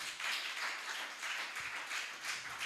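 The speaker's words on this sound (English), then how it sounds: "a round of applause for yourselves" A conference audience at an export summit gives a round of applause. Many hands clap in a steady, moderately loud wash that swells and dips, with no talking.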